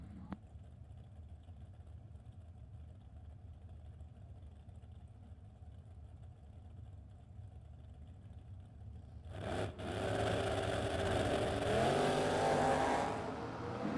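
At a drag racing event, a Chevrolet Nova and a first generation Camaro sit quiet at first over a low background hum, then their engines burst into a loud, sustained roar that holds to the end.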